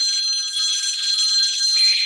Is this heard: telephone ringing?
yes